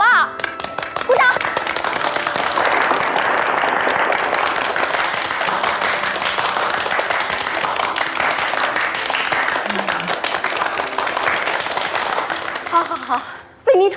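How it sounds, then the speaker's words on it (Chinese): Applause breaks out at a 1970s workplace gathering, a dense steady patter of many hands clapping that fills the stretch, with voices mixed in and cheering throughout before it cuts off near the end. "太好了，鼓掌！"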